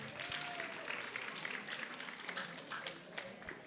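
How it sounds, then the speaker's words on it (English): Soft, distant applause from an edtech summit audience rustles continuously as a group walks up onto the stage. "Let's have a round of applause as they come up."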